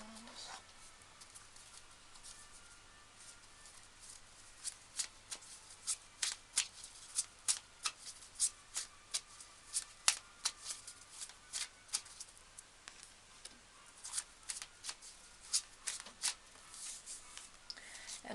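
Tarot cards being shuffled by hand, a quick patter of riffling snaps repeating steadily through the clip, close and fairly soft over a quiet room.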